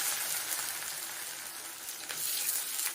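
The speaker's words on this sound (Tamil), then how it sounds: "கருவேப்பிலை கொஞ்சம் போட்டுக்கலாம், கொஞ்சம் சீரகம், வெங்காயம் போட்டுக்கலாம்." Curry leaves, cumin and onion sizzle steadily in hot oil along with fried chana dal, a close, continuous hissing crackle that holds for a few seconds before cutting off.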